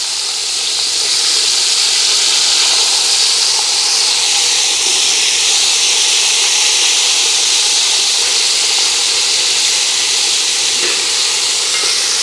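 Curry chicken with oil steaming in a pot sends up a loud, continuous hiss and sizzle close by, steady for the whole stretch with no talk.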